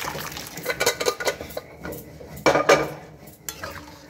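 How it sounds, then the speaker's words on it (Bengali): Boiled peas tipped into a pan of fried spices for ghugni and stirred, with a spoon clinking and scraping against the metal in uneven bursts; no one talks. "আমি সেদ্ধ করে রাখা মটরগুলো দিয়ে দিচ্ছি"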